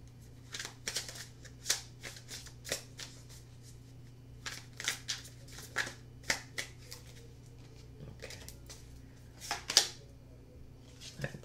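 Tarot cards shuffled and pulled from a deck: a series of crisp, close riffling bursts and soft flicks in irregular clusters, fairly quiet, with a low steady hum behind.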